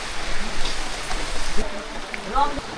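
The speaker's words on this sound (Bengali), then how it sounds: "বৃষ্টির জন্য আসলে আটকে গেছি আমরা" Steady rain falling outdoors in a Bangladeshi village, a dense, even hiss of drops spread across the whole clip at moderate loudness, with no clear voices over it.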